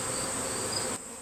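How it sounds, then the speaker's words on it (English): A swarm of honey bees being collected and transferred to a Warre hive gives a steady, dense buzzing hum that fills the short moment and then drops off slightly near the end, with no voices. "there still are quite a few bees searching for the branch and the queen and their colony"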